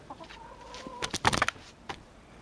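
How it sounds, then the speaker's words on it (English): Farmyard chickens clucking in the background, with a few soft clucks early on and then a louder, busier burst of clucking and squawks near the middle, heard alone with no talking. "the chickens clucking away"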